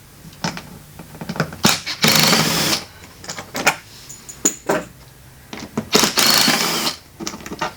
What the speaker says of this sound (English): need a drill